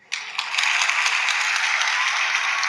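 Small group clapping indoors during a casual TV episode reaction session, starting abruptly after a brief quiet moment and continuing as steady, close applause with a few louder claps.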